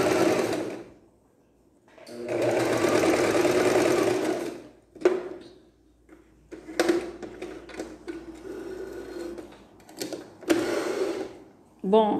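A domestic sewing machine stitching seams on a child's bomber jacket runs in loud bursts, with a long steady run and several shorter starts and stops, while a person talks between the runs.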